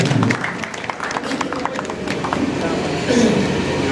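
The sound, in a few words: audience applause welcoming guests to the stage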